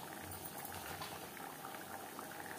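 Onion-and-tomato gravy with fried tilapia pieces boiling steadily in a pan, a continuous bubbling and popping simmer with no voices, close and fairly quiet.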